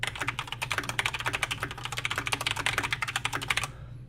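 Rapid, continuous typing on a Corsair K95 RGB Platinum mechanical keyboard, close and crisp, with dense clicky keystrokes for about three and a half seconds before stopping abruptly, no voices.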